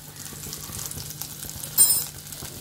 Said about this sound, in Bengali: একটু 5 ফোড়নটাকে ফ্রাই করছি